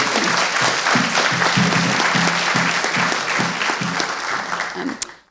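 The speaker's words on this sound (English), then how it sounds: "A round of applause for our panel." A conference audience applauds a panel on AI in Australian tertiary education, dense steady clapping that fills the room and tapers off near the end.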